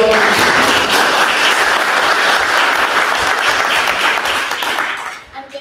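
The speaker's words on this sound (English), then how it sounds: "Give them a round of applause" The audience at a panel on the South African Copyright Bill gives the panelists a strong, sustained round of applause that holds loud and steady, then thins and fades out near the end.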